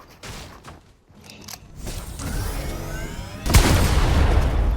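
Gunfire in a Fortnite solo match, a burst of shots and booming blasts that grows denser and louder toward the end, with almost no talk over it.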